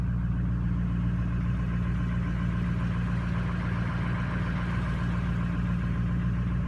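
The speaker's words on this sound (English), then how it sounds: "Can you hear that engine purring?" A diesel Cadillac deVille engine idles steadily, a low continuous rumble with a faint rhythmic chug, close by and unchanging throughout.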